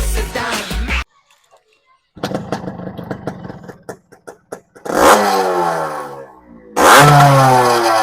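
Yamaha RX100 motorcycle engine revving up in loud bursts with rising and falling pitch, separated by quieter idle clatter and a short silent gap, close by and with no talking.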